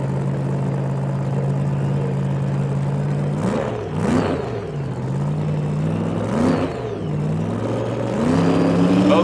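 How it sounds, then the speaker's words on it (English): Drag racing cars at the starting line of the 1982 NHRA NorthStar Nationals Pro Comp final rev their engines, the pitch climbing and falling in several loud bursts over a steady rumble. "listen to the RPMs come up at the starting line"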